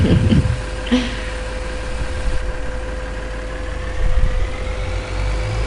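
Tractor pulling a trailer in the Farming Simulator video game, a steady mid-low engine drone with a constant hum, fairly loud and continuous, briefly swelling near the start and end, no talk.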